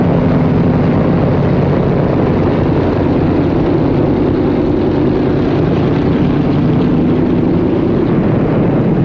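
Propeller aircraft engine on a 1950-era transport after landing, a loud continuous droning rumble with a steady low hum throughout, close and with no voices.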